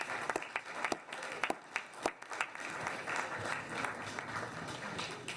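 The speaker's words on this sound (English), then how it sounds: "Can we give them a round of applause" Applause from the audience at a city council regular meeting, opening with a few sharp individual claps that quickly build into a full, sustained round of clapping.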